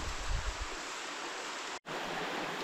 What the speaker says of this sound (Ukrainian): Попереду одразу річка